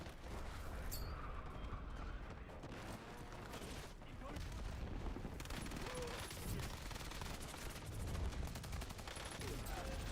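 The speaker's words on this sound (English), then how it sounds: "Incoming fire." Gunfire in Call of Duty Warzone, with dense bursts of shots and explosions rattling through the whole stretch, loud and layered at mid distance, and game voices mixed in.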